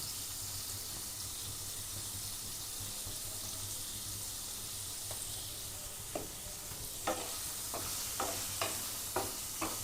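Paneer seasoned with salt and chilli powder fries in a pan with a constant soft hiss of sizzling oil, then a run of light, evenly spaced taps from a spatula against the pan near the end.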